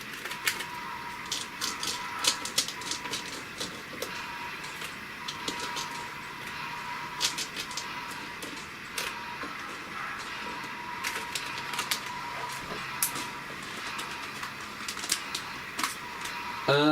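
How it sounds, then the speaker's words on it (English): Small screws from a model train workbench are put away in a steady string of light, irregular metallic clicks and rattles, quiet and close, with no talking. "I'm going to put away the rest of these screws."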